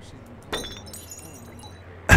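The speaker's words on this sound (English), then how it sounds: "Just a bunch of glass bottles." Glass bottles smashing in the video game Half-Life 2, a sharp crash near the middle and another loud burst at the end over low game ambience.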